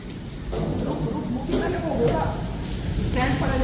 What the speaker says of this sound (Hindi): So guys, बहुत तेज बारिश आ रही है